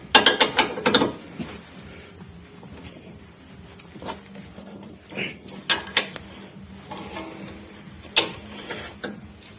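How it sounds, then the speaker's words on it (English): Metal wrench clanks and ratcheting clicks while working a front shock absorber bolt on a Honda CR-V, a dense burst of rattling taps at first, then scattered sharp knocks and clinks up close. "We insert the wrench. And press it back."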